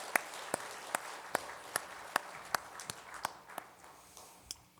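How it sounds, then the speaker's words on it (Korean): A church congregation at an Easter worship service claps in a steady, evenly spaced rhythm of sharp strokes, faint and distant over a quiet room. "박수 치겠습니다."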